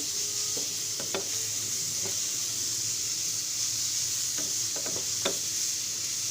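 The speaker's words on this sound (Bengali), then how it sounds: "পেঁয়াজ রসুনটা দেওয়ার পরে আমি কিছুক্ষণ ভালোভাবে ভেজে নিব এটাকে" Onion and garlic fry in a pan with a steady soft sizzle, while a few scraping stirs and light taps sound up close.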